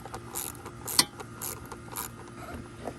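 Small screws being carefully tightened back down while spark plugs are changed, heard as quiet close-up mechanical clicks and ratcheting with a sharper click near the middle.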